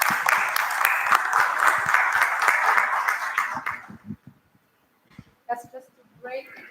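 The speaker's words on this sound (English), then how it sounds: "That's a clap for you as well" Conference audience at an impact awards event in Dubai clapping steadily for several seconds, then the applause stops and a voice speaks briefly.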